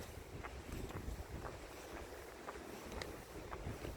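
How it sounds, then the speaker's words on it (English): Wind blows steadily at the shore of a lake in Dalarna, a continuous rough rush with buffeting against the microphone and faint gusty swells, no voices. "it's pretty chilly here right now and windy"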